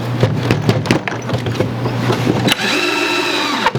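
A power drill whirs in short, stuttering bursts as screws are driven into a wooden window planter box, then holds one steady, louder run near the end, close by and with no talk.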